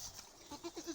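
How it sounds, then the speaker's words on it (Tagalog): A goat gives a few short, faint bleats in quick succession, heard close but quietly against a soft outdoor background. "Siya nagkuha ng kambing."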